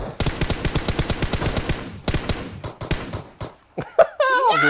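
Rapid gunfire bursts from a video game, a quick series of sharp evenly spaced shots followed by scattered single pistol-like cracks, loud and close, with game sound effects and a voice near the end.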